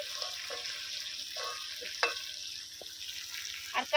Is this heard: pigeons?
no